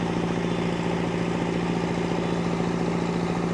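Diesel generator motor running on a rescue truck, a steady close droning hum with a constant low tone and no breaks.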